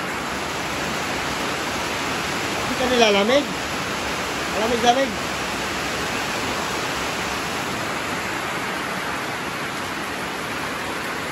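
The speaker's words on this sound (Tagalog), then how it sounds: "Grabe ulan sa amin." Steady heavy rain falls during the rainy season, a broad unbroken hiss throughout, with two short bursts of speech partway through.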